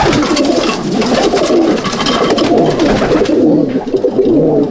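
Pigeons in a competition pigeon loft, including banded Fulshira males, coo continuously and loudly in a dense chorus of overlapping low, rolling calls close by, with a busy, fluttering background.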